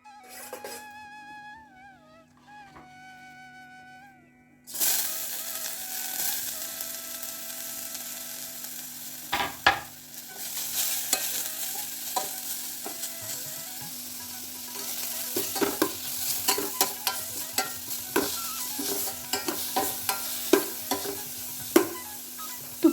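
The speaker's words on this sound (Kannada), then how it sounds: "ತುಪ್ಪದಲ್ಲಿ ಕ್ಯಾರೆಟನ್ನು ಚೆನ್ನಾಗಿ ಫ್ರೈ ಮಾಡಿಕೊಳ್ಳಬೇಕು." Grated carrot fries in about two tablespoons of ghee with a continuous close sizzle, broken by scraping and clacking stirs that grow busier over time, after a short opening of soft tonal beeps.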